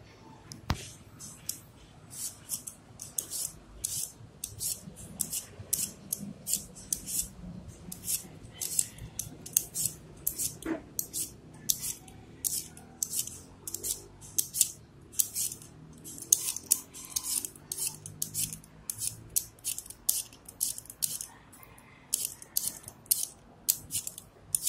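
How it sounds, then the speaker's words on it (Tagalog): A vegetable peeler strips the skin from a potato in quick, crisp scraping strokes, a close, steady run of short rasps repeating with little pause throughout. "Peel off the skin by using the peeler."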